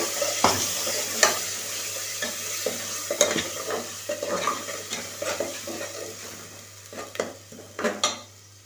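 Ground paste of garlic, ginger and herbs sizzling in a hot pan for sweet pumpkin rice, with steady frying hiss and repeated scraping stirs of a spoon against metal, close and continuous with no talk.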